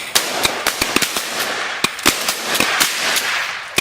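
Gunshots fired at geese while hunting crack out in a rapid volley of sharp, loud reports, about a dozen irregularly spaced blasts over a few seconds.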